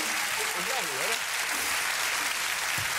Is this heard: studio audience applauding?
yes